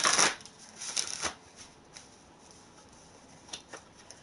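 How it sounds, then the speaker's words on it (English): A tarot card deck being shuffled by hand, with a burst of crisp riffling at the start, a second flurry around a second later, then scattered soft card flicks and taps in an otherwise quiet room. "The 9th card after I do one final shuffle."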